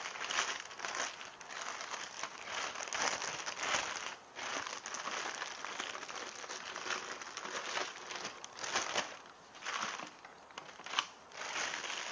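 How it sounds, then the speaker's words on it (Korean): Plastic vinyl cover peeled and crinkled off a boxed Hurion machine packed in styrofoam, a continuous close, busy rustling and crackling of film for about twelve seconds with no talk. "비닐 커버를 벗겨낸 후 제품이 이제 보이시죠?"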